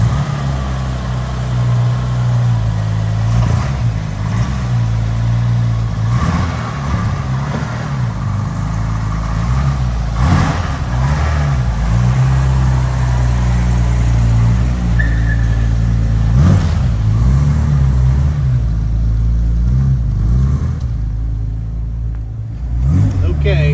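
Engine of a 1965 Aston Martin DB Short Chassis Volante, one of 37 built, drones steadily while the car is driven cold, below operating temperature, with low harmonic rumble and shifting revs throughout, heard from inside the car as people talk over it.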